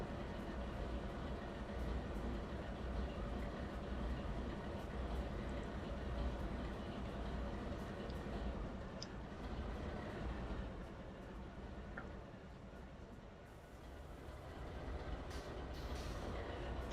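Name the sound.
train engine idling in Trainz Railroad Simulator 2022 video game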